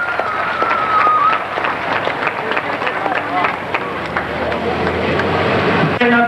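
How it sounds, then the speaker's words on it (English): Applause and crowd noise from the audience at a 1985 tractor pull event in Meadville, Pennsylvania, a steady wash of clapping under an announcer's amplified voice. "Let's give him a big round of applause, ladies and gentlemen"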